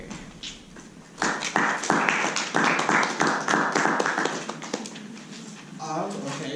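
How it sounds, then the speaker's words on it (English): A Toastmasters meeting audience claps together in a steady patter of quick hand claps that runs for several seconds, fairly near, then thins out while a voice talks. "Thank you for clapping for me"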